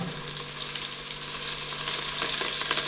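Ginger paste and coriander leaves frying in oil in a pan for chicken biryani, a continuous close sizzle with light crackles and a faint stirring clink, no voices.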